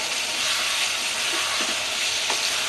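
Boneless chicken pieces with salt and yogurt being stirred and fried in a pan, a loud continuous hiss of sizzling with occasional scraping stirs close by.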